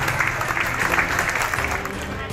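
Crowd clapping to welcome returning personnel being honoured with garlands, steady dense applause heard under a talking voice.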